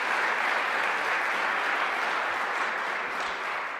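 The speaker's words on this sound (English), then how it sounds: "So let's give him a round of applause as well." A round of applause from an audience at Onondaga Community College, dense and steady for several seconds with no speech over it.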